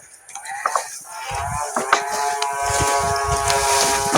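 A water buffalo lows in a drawn-out, buzzy moo nearby, with soft thuds and shuffling around it.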